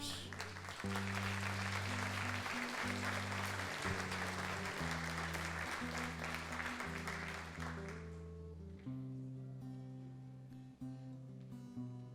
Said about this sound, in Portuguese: Aplauda a Ele por isso, queridos